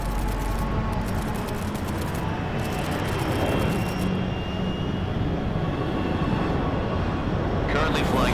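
Aircraft in flight over the Arctic Ocean at altitude in the video game Metal Gear Solid Delta: a continuous, loud, broadband engine roar and rushing air filling the whole clip without a break.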